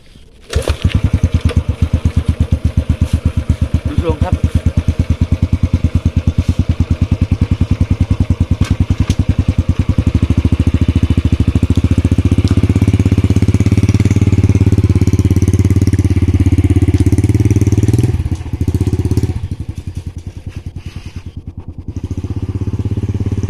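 A motorcycle engine with a replaced swingarm and a weak battery, running loud and close as it is ridden, a rapid steady putter that rises into a smoother drone, then dips briefly and picks up again.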